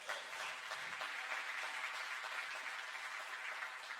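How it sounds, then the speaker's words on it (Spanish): Church congregation applauding during a Sunday service, a faint, steady wash of clapping from a distant crowd that carries on evenly for a few seconds without speech. "¿Cuánto le da un aplauso a ese Cordero?"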